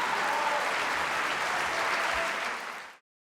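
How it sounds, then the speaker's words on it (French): A standing audience applauds a chamber music concert at length, a dense, even wash of many hands clapping that holds steady and then cuts off abruptly. "Le public, totalement conquis et debout, a applaudi longuement ce concert de musique de chambre d'exception."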